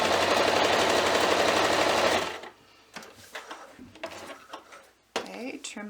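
A sewing machine runs steadily and loudly, stitching the seam of a quilted stocking for about two seconds, then stops. Clicks, handling noises and light rustling follow.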